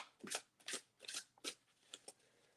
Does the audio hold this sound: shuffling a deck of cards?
yes